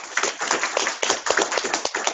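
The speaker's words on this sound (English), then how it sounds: "Let's give a round of applause for Ms. Ellis." Applause from participants in an online Zoom session, a short stretch of scattered, uneven hand claps, close and slightly compressed, with no talking over it.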